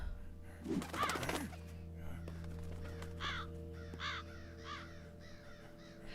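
Crows caw several times against a steady low mechanical hum, with one close, loud burst at the start followed by fainter repeated calls spaced about a second apart.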